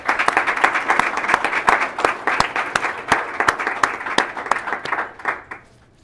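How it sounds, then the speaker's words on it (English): An audience at a FortisTCI plenary session applauds the speakers, including Ambassador Andrew Young, with sharp, fairly close claps over a crowd wash before fading out near the end. "I would ask you to give them a round of applause"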